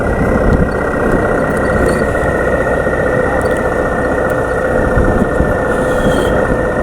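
A tractor engine idles steadily nearby on an outing to the Jakhani Bridge over the Marin River, a constant loud low rumble throughout with no break in level.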